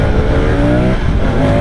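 Moto Guzzi V100 touring motorcycle riding through Naples traffic, its engine a loud, steady close-up drone with shifting harmonic tones as the revs rise and fall, with no talk over it.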